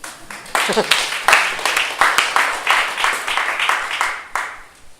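Audience applause at a local history talk in Goesan: a cluster of individual claps, fairly close, rising after a short lull and holding steady with uneven rhythm before thinning near the end.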